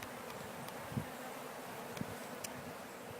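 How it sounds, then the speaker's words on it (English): Faint, steady buzzing of many bees, a low droning hum with a few sharp taps, quiet and continuous. "You can see how packed the box is with bees."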